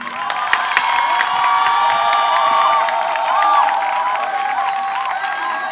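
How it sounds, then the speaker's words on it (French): Large audience of student journalists at a World Press Freedom Day event applauding and cheering, a loud continuous wash of clapping with whoops and shouts, dense and steady throughout. "Applaudissez pour vous."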